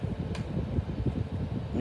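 A 2015 Sainsbury's 30 inch tower fan running steadily with a soft, low whooshing hum and faint ticking, continuous and close, with no voices.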